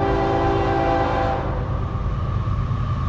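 A CSX freight train sounds its horn in one long, loud, sustained chord close by, which drops in pitch partway through as the train rumbles past.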